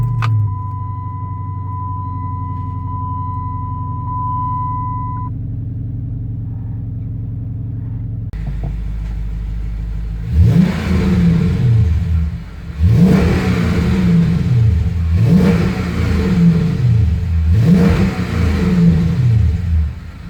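A car engine runs after a new battery has been fitted, beginning with a steady idle hum and a brief tone. It then gives four loud, rhythmic revs, each rising and falling back.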